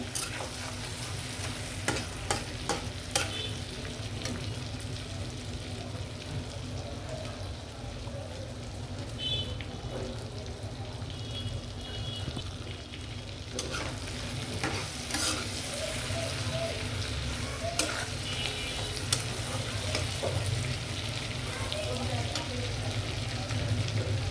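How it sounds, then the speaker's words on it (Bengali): Lobster prawns fry in a pan with a constant dense sizzle, and occasional scraping from stirring is heard close up throughout. "মাছটি ভেজে নিলে"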